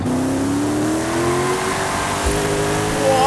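Hyundai Elantra engine in Forza Horizon 5 revving steadily, its pitch climbing through a gear as the car accelerates, loud and continuous with no talk.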